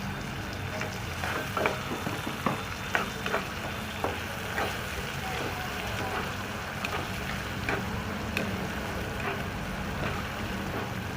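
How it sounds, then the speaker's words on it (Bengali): Onion fries in a pan for spinach and soya chunks, a continuous crackling sizzle with light stirring taps, heard up close and fairly soft with little else over it. "পেঁয়াজটা কিছুটা ভাজা হয়ে গেছে"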